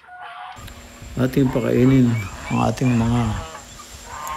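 Backyard chickens cluck near a coop at feeding time, several short clucks in two close bursts, while someone speaks over them.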